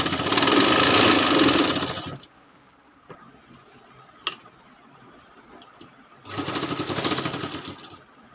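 A sewing machine stitches the border of a quilt made from old sarees in two loud, steady whirring runs, separated by a quiet pause with an occasional tick.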